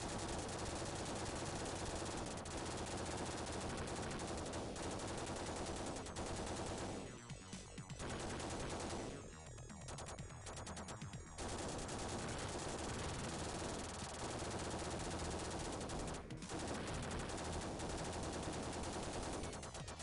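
Rapid, continuous machine gun fire from the Terminator 2 arcade game on Sega Genesis, a loud, dense, unbroken stream of gunfire that only briefly thins in a few short gaps.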